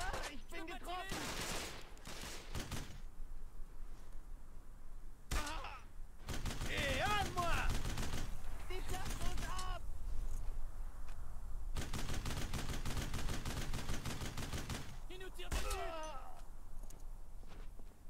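Machine guns and rifles fire in the World War II game Brothers in Arms: Road to Hill 30. Dense bursts of automatic gunfire and single shots crackle in loud clusters between quieter gaps, and voices shout briefly among the shots.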